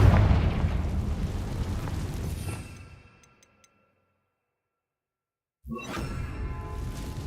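A Confringo fire spell explosion in Hogwarts Legacy, a loud roaring blast that rumbles and fades to silence before another dense burst of game noise begins.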